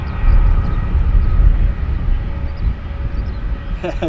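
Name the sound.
Wizz Air airplane taking off from Luton Airport to Budapest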